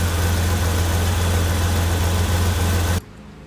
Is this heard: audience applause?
no